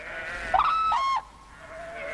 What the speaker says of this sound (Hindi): कुछ भेड़ें इधर ही बढ़ रही हैं।